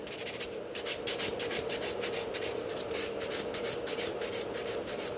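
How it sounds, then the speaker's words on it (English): Fast filing across the surface of a fiber gel coffin nail extension built on a short nail with a tip: a steady, continuous scratchy rasp with rapid back-and-forth strokes, close and fairly loud, with no talking. "So I'm just smoothing out the surface, like pretty fast to start off."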